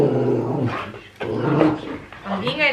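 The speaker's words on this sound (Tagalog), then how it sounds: "ang ingay ng aso ko" A dog barks and growls close by, its noisy yelps blending with human voices throughout.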